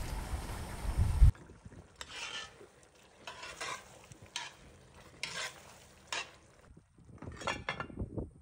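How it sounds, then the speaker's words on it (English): Rotel tomatoes, sausage and bacon pieces go into a pot of pork cooking for jambalaya, with a loud clatter at first, then repeated stirring scrapes and soft sizzling in bursts, close and without talk. "I'm gonna add in a can of Rotel. I'm gonna add in the sausage and the bacon pieces."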